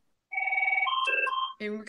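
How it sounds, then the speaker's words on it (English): A hotel room telephone rings with one electronic two-tone burst, clear and fairly close in a quiet room, and a voice starts speaking just as the ring ends. "you may hear a hotel phone ringing"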